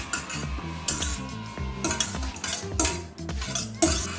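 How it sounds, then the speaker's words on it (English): A whisk beats brownie batter of cocoa powder, espresso, salt, sugar, vanilla extract, melted butter and chocolate in a bowl, giving quick, rhythmic metallic clinks and scrapes against the bowl, close and fairly quiet. "And then I'll whisk it."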